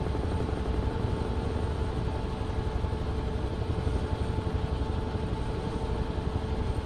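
A Huey helicopter in Microsoft Flight Simulator thrums steadily, its rotor and turbine producing a constant loud, dense whirring drone with rapid fluttering pulses, unbroken and without voices.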